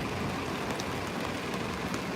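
A heavy downpour in San Francisco pours down as a dense, steady roar of rain, loud and unbroken across the whole moment.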